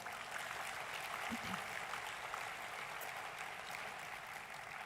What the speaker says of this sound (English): another round of applause for all of our winners